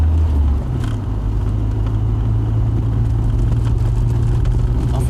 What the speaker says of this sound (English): They have a bit of a gruff growl about them, and this does that.